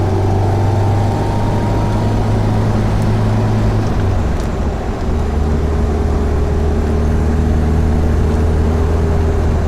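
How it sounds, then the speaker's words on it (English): The original twin-carb engine of a 1971 MG B runs while the car drives, a loud, steady close-up drone whose pitch shifts as the revs change through a gear change midway. "The car does have its original motor."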